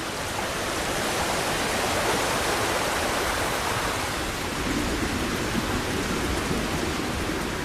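Dense, steady rain pours down without letup, a loud broadband hiss filling the whole stretch.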